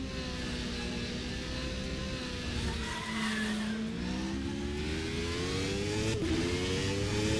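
An open-cockpit race car on a wet rFactor 2 circuit, its engine rising and falling through gear changes as the tyres squeal steadily beneath, loud and close throughout.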